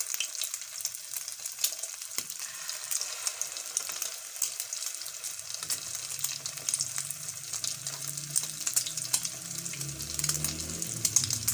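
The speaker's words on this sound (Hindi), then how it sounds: "अब हम इसमें अंडे के साथ लगा के इसके अंदर रखेंगे ऑयल में" Egg-coated chana dal and potato kebabs fry in hot oil with a steady, close bubbling sizzle that builds and grows denser as more pieces go in, no talking.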